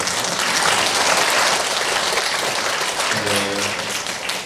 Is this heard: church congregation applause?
yes